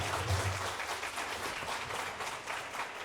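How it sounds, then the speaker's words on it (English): Audience applause at an Airbnb investment forum, a soft, steady patter of many hands clapping at a distance, with a low voice murmuring briefly at the start. "Let's give him a big round of applause"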